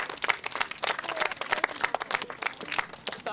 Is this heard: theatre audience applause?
yes